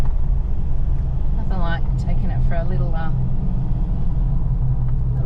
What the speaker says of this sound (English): we'll take you for a little drive with us